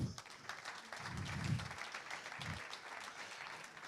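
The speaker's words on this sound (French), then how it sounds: "Et rien que pour ça, on peut encore vous applaudir." Faint applause at an awards ceremony, a soft, continuous patter of clapping from an audience heard at a distance, with a few low murmurs mixed in.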